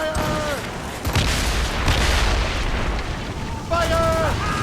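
Cannon fire in an Assassin's Creed Rogue naval battle: heavy booming blasts and rumbling impacts over a constant roar of battle noise, with brief whistling tones, loud and continuous.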